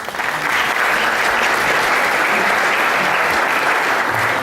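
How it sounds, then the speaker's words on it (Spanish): Audience at a talk on usability in interactive systems design applauds to welcome speaker César, a dense, steady round of clapping that swells quickly and holds evenly to the end. "Bienvenido y un aplauso al maestro César."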